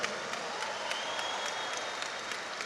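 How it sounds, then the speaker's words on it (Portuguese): Applause for Pastor Felipe Parente, a translator, at the Destino 2026 church conference: steady, dense clapping from a crowd filling the hall at an even level, quiet and somewhat distant, with no voices over it. "Forte aplauso para o pastor Felipe Parente,"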